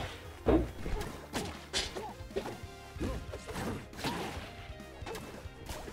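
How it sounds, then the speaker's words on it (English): Sharp smashing impacts with a glassy breaking quality hit several times in a fighting video game, crashing over busy game sounds in an irregular rhythm. "it makes a glass effect breaking sound too"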